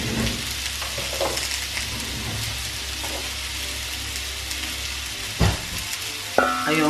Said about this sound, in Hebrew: אני לוקחת את כל הבצל שחתכתי ושמה על הפלנצ'ה